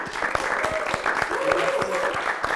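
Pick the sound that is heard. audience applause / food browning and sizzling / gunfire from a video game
audience applause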